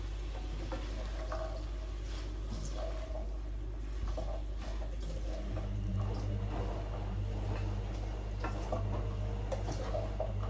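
Liquid is poured into a hot cooking pan, setting off a steady close sizzle and crackle that swells about halfway through over a low background hum, with no talking.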